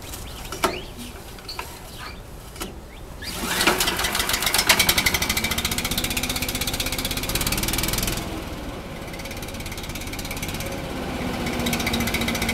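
A Kohler small engine runs after starting, a rapid, loud mechanical chatter that surges and settles as throttle and choke are worked, continuing steadily for several seconds with no talking.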